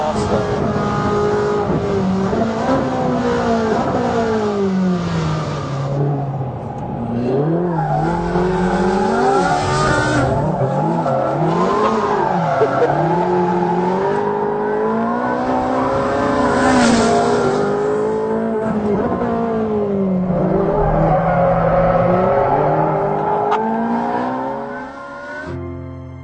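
A Ferrari 458 Speciale screams around a track, its high-revving engine rising and falling through gear changes, loud and close throughout, with hints of tyre squeal.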